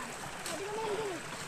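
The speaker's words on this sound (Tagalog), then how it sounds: "ito mayroon ditong sapa or batis" Small year-round stream on an undeveloped 28-hectare farm, with quiet splashing and trickling water beneath a voice talking nearby.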